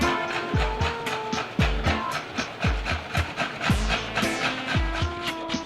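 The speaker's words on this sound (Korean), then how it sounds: "얼른 저만의 안경을 만나고 싶어서 이 톱질을 멈출 수가 없네요" A hand saw cuts through a wooden board being shaped into eyeglass frames in a workshop, its rasping strokes repeating steadily and close, with a rhythmic back-and-forth pattern and no talk.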